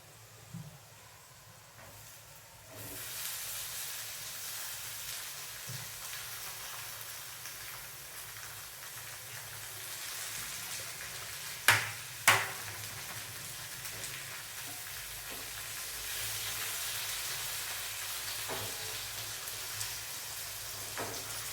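Tomatoes tipped into a hot pan of potatoes and okra, setting off a steady broad sizzle with two brief sharp spatters partway through, continuous and fairly close with no talking.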